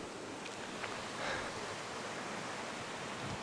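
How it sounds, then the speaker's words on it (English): A river flows steadily nearby in a nature park, its broadband rushing wash continuous and fairly soft, with a few faint incidental knocks and rustles on top. "I hope the river isn't too loud."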